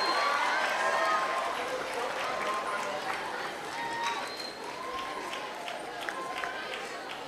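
Sustained applause from a large seated crowd at a university congregation and commissioning ceremony, a dense steady patter that slowly fades, with a voice speaking over it.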